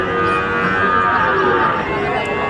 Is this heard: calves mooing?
yes